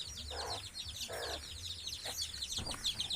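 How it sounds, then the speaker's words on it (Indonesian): Chickens and ducks in a coop beside a fish pond cluck and chirp continuously, with several birds overlapping in dense, busy calls and occasional louder squawks. "Ini kandang ayam guys ya, kandang ayam, kandang bebek ya."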